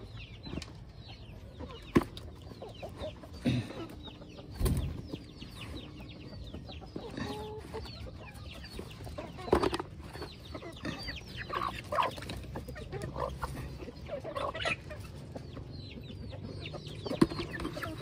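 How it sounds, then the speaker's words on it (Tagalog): Farm chickens cluck and squawk while being fed, a scattered chorus of short calls with occasional wing flaps and thumps throughout, fairly close and moderately loud. "So papakain muna tayo sa ating mga manok mga ka-farmers"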